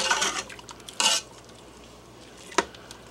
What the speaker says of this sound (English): Give that a little stir to get it all mixed up.